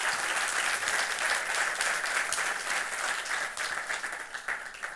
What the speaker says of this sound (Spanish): le damos de nuevo la bienvenida y un gran aplauso a Tomás Abram.